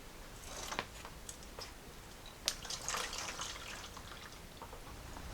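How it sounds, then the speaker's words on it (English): Antifreeze trickling and splashing from a Jeep Cherokee XJ into a drain pan, a quiet uneven dribble with scattered small drips and a brief sharper splash partway through. "Still a little antifreeze in here, so we'll just drain this in the drain pan."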